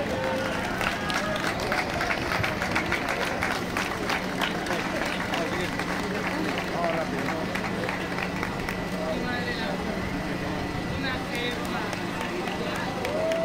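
Applause for award winners at a prize ceremony after a city road race in Segovia, a crowd clapping steadily and continuously throughout, with a voice speaking over the clapping.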